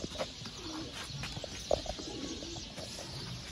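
Pigeons coo in a loft of breeder birds, soft low calls repeated against a faint, busy background, one call standing out a little louder midway.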